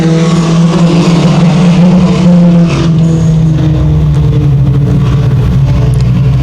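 Race trucks roar loudly and continuously as they accelerate together at a dirt track restart at Evans Mills Raceway Park, engines droning close and steady with no voices.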